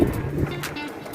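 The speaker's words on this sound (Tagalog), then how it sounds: "Hangin na dyan basta buntag lagi." Wind buffets a microphone during a morning motorcycle ride, a steady rough rumble with gusty bursts, close and continuous with no voices.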